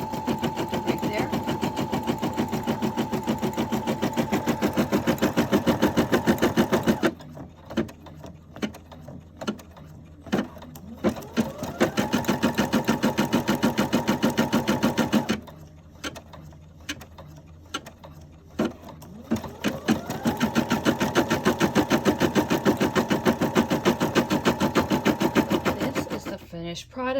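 A single-needle embroidery machine with a 4x4 hoop stitches a memory bear patch, its loud, steady mechanical whirring running in long stretches that stop and start again, with quieter pauses between runs.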